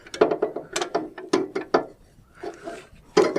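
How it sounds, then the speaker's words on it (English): Pulley of an LI-3100C being lifted and slid out of its drive belt: rapid clattering, ratcheting mechanical clicks in close bursts, a brief softer scraping lull, then another loud burst. "Slide the pulley out of the belt."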